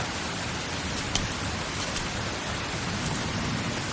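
Steady, dense rainfall fills the scene with an even hiss, with a few brighter drops or splashes standing out briefly; no voices.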